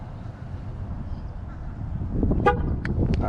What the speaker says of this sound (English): Press the button until I hear the horn.